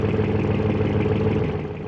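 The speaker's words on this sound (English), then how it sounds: "Like that V8 sounds so good." A deep, throaty V8 engine in a BeamNG video game supercar rumbles steadily and close, a continuous burbling growl with no voices over it.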